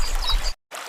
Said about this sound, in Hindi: और पानी भरने लगती है